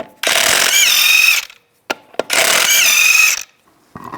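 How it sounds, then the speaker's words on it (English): A ratchet fitted with a 19mm socket spins off the lug nuts on a Chevy Trailblazer wheel, two loud sustained bursts of rapid clicking with short pauses and a few clanks between, close and alone. "Use a 19mm socket, take the lug nuts off."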